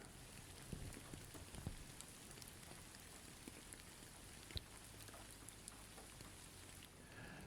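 Rain falls in a soft, steady patter with scattered individual drop ticks, faint and ambient without voices.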